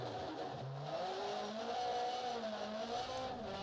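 Rally car engine at full throttle in the Dirt Rally 2.0 video game, a loud steady race-car roar with rising and falling pitch as gears shift, alone with no talk.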